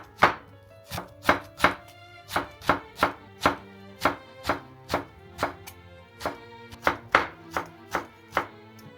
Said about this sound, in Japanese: 葉っぱはくるくる丸めてから細切りにしましょう。